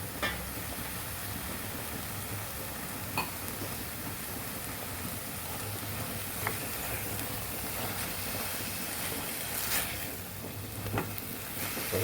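Mashed roasted brinjal frying with spring onions in a pan, a steady, dense sizzle throughout with a few faint scraping stirs, close and moderately loud.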